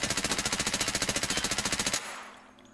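SIG MPX submachine gun firing in Escape from Tarkov: one loud, steady full-auto burst of about twenty rapid shots lasting two seconds, then a short echoing tail.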